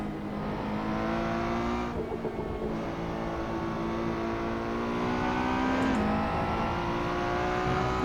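A Ferrari 488 Challenge Evo race car in the Assetto Corsa driving game roars at high revs, its engine note steady and loud with brief shifts as it brakes and accelerates, no talking over it.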